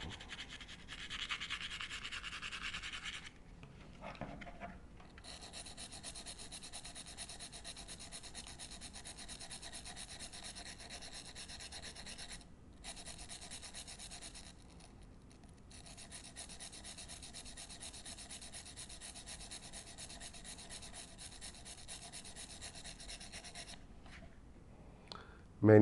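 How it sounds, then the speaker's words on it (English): A bore brush is rubbed lightly over a gun frame to lift off contaminants, giving a steady, close scratchy rubbing that runs for most of the stretch with a few brief pauses. "we'll just rub the bore brush lightly on the frame to peel that all off"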